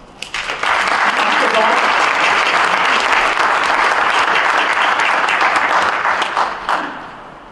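Sustained audience applause at an evening university school of education forum, a dense wash of many hands clapping that swells quickly, holds steady for several seconds, then tapers off.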